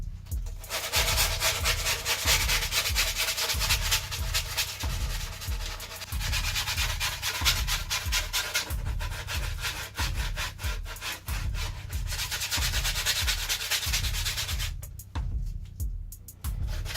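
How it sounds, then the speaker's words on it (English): A brand-new skateboard deck gets its edges sanded down with steady, rhythmic back-and-forth strokes that are close, loud and continuous, with no talking. "sand down the edges."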